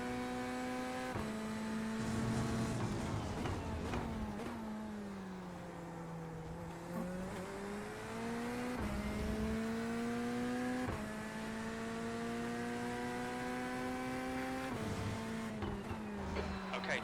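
A race car lapping hard at the Red Bull Ring, engine note climbing steadily through the gears with sharp drops at each shift and braking zone, loud and continuous from the cockpit.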